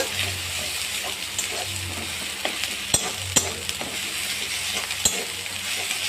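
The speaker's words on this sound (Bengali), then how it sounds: "আদাটাও ডিমের সঙ্গে ভালো করে ভেজে নেব" Egg and ginger paste frying together in a pan, a continuous close sizzle broken by stirring scrapes and a few sharp utensil taps against the pan, with no voices.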